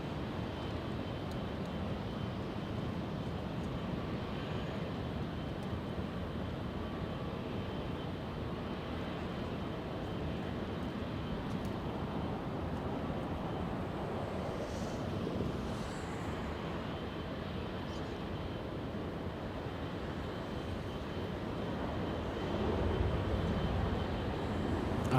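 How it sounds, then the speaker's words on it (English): A United Airlines Boeing 777 takes off at LAX, a steady distant broadband jet roar that holds evenly and swells slightly near the end, with no talk. "that 777 that you're hearing taking off, heading to Honolulu"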